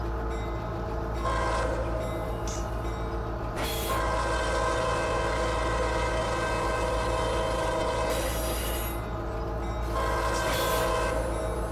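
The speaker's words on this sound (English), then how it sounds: "You can hear the horn kind of echoing off the buildings there." In the Run 8 train simulator, a BNSF/UP freight train at West Colton sounds its horn in several loud blasts that echo off nearby buildings, over the steady rumble of the locomotive and cars.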